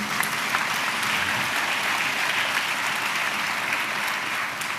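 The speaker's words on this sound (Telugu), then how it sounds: "చప్పట్లు కొట్టు స్తోత్రాలు చెప్దాం" A church congregation claps their hands together, dense sustained applause from many people filling the room evenly throughout.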